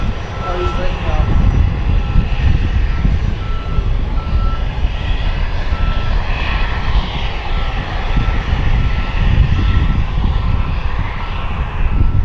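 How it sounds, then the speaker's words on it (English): Delta airliner jet engines at night at Harrisburg airport give a loud, continuous roar that swells and eases, with some faint tonal whines on top and no voices over it. "Delta flight from Atlanta, looks like. The last one."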